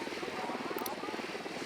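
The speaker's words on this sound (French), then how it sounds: "Je déploie le drone." Deployed recon drone flying in the Ghost Recon Wildlands video game, a steady buzzing rotor drone heard as a continuous moderate hum with no pauses.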